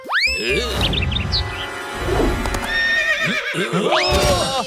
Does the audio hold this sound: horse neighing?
yes